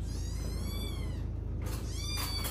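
A cat meows twice, close by, each a drawn-out, wavering cry over a low steady hum.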